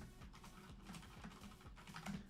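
Rapid, light clicking of keys on a computer keyboard, a steady patter of taps at close range with no voices.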